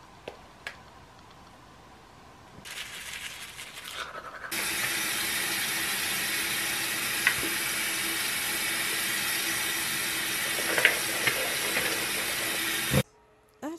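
A sink tap runs water in a steady, loud, unbroken rush for about nine seconds after a quieter stretch, then cuts off abruptly.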